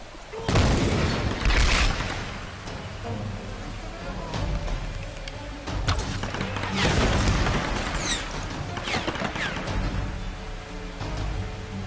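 Gunfire in the Tomb Raider 2013 video game: heavy booming shots and bursts roll through a dense, loud battle soundscape, with big blasts near the start and again midway, while someone talks over the action.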